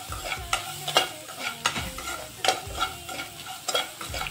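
Brinjal cooks in a pan with salt and turmeric, sizzling softly while a utensil scrapes and stirs in repeated strokes.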